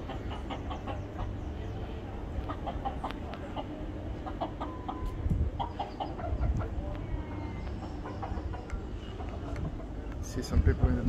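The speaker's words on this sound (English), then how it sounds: "Chicken." A chicken clucks repeatedly in a Barbados neighborhood, short bursts spread across the stretch over steady outdoor background noise, with voices murmuring nearby.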